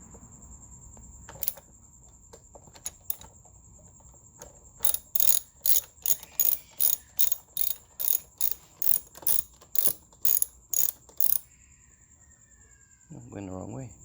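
Ratchet clicking in a steady run of about a dozen sharp, evenly spaced clicks while a 10mm tightens a bolt on a 2003 Kawasaki 636 during fuel injector work, close and clear over a quiet room, with a brief voice at the end.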